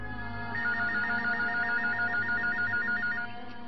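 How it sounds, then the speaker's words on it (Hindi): A telephone rings with a steady warbling electronic trill for about three seconds, loud and close, alone with no talk over it, in a quiet room at night. "ओ, इन रात को किसका फोन आ गया?"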